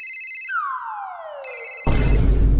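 A phone ringtone plays as a series of bright electronic tones with gliding pitch sweeps, stopping and restarting, then cut off by a sudden loud burst of noise.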